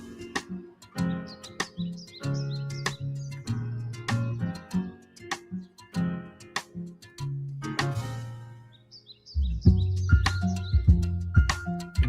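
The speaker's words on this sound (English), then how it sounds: "Birds are in the song." Bird chirps woven into a hip-hop-flavoured song, with bright short tweets repeating over the beat's steady rhythm and bass throughout.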